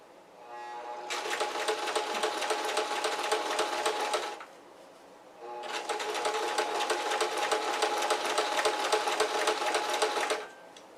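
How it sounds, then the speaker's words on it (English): Sewing machine stitching an elastic casing on a pair of shorts, running steadily in two long bursts of about four to five seconds each with a short pause between them, close and loud, with no talking. "We are sewing the casing for the elastic."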